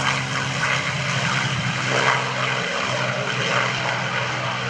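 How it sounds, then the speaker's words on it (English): North American TF-51 Mustang, a two-seat propeller fighter, taking off at an airshow near Orlando, its piston engine giving a loud, steady droning roar that swells slightly and holds throughout, with no voices. "taking off right now in their 25th year of operation from Stallion 51 over near Orlando, Lee Lauderback in the North American TF-51 Mustang"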